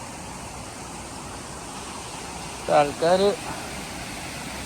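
A waterfall at Jesmond Dene in Newcastle sends out a steady, broad rush of falling water throughout, with a brief voice speaking over it partway through.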